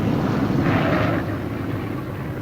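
A B-17 Flying Fortress bomber returns to land, a broad, rumbling engine drone swelling briefly then holding steady, distant and continuous with no voices.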